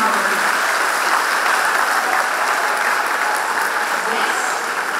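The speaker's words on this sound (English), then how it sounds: "Ladies and gentlemen, let's give a huge round of applause." A steady, dense wash of audience applause fills a moot court competition valedictory hall, sustained and even from start to finish with no voices breaking through.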